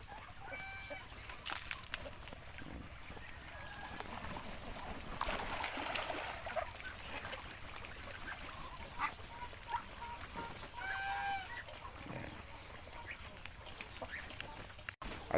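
Ducklings and other fowl moving around a coop, heard as a steady hum of scattered chirps and peeps with occasional clucking, a constant low-level chatter of small birds at moderate distance, without speech.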